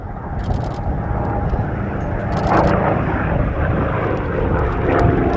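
A Goodyear FG-1D Corsair propeller warplane roars steadily close by at an air show, engine drone holding loud throughout with a rising whine as it passes.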